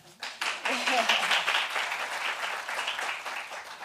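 An audience at an International Women's Day dialogue event applauds steadily, a dense wash of clapping that stays even for several seconds after a brief start.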